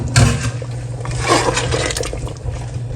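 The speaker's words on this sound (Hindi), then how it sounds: "जो दाल को बॉईल करते हुए पानी था वो भी इसमें मिक्स कर देंगे" Water left from boiling chana dal splashing and pouring into a pot of beef, a continuous liquid rush with a few clinks, close and fairly loud.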